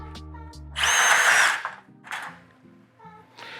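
A power drill whirs in one strong burst, driving a screw through a shallow magnetic nut setter, with a brief tool hum before and shorter bursts and clicks after.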